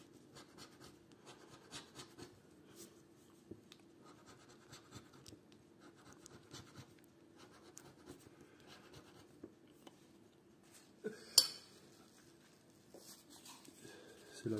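FDJ lottery scratch cards being scratched, soft faint rasping strokes in irregular short bursts, close and quiet, with a sharper scrape and rustle near the end.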